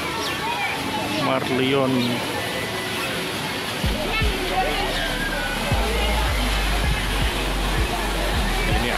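Water pours from the Merlion statue fountain in Madiun in a steady outdoor splashing rush, with a voice speaking over it early on and low wind rumble buffeting through the later part.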